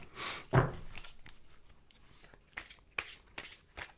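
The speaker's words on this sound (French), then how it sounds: "Je vais tirer juste 2 cartes pour voir qu'est-ce qui éventuellement peut être dit pour vous" Tarot cards are shuffled and drawn from a deck, with a loud riffle near the start followed by soft slides and snaps of single cards. A voice talks over part of it.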